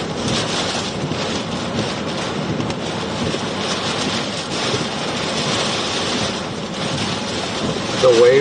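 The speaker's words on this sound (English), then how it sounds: "The waves are coming up to the probe now in Cedar." Hurricane storm waves washing ashore during Hurricane Debby at Cedar Key, heard as a loud, continuous roar of surf and wind, rushing steadily without pause and with no voices.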